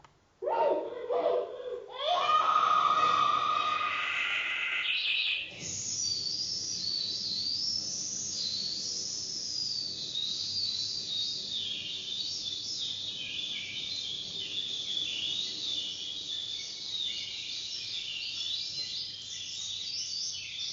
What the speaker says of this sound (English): He uses the word listen and he transforms this into bird song.